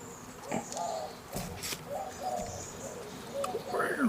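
A pigeon coos in soft, repeated low phrases amid light background noise and faint voices nearby.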